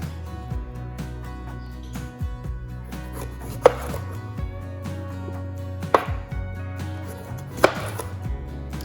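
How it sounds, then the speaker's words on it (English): A knife chops through bell peppers on a cutting board, with three sharp, distinct cuts standing out over a steady background hum. No one speaks. "First thing you want to do is just cut your peppers in half."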